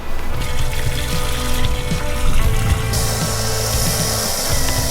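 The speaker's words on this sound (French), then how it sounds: "on va en profiter pour remplir notre cuve, notre bidon d'eau propre" Water rushes from a hose into a van's clean water tank in a loud, steady, close torrent that fills the whole clip without a break.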